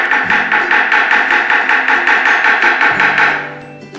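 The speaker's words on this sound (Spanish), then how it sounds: "Vamos a dar un poquito de golpes para darle movimiento." A chocolate sphere mold being rapped repeatedly on a surface to shake out excess chocolate, a fast even series of about twenty loud, close knocks that slow and fade at the end, no voices.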